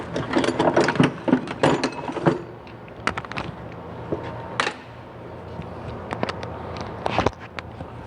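Ratchet and socket without an extension backing out 13 mm bolts on a GM 11.5-inch rear differential cover, with bursts of rapid metallic pawl clicks and clanks, busiest at the start and returning in short spurts later.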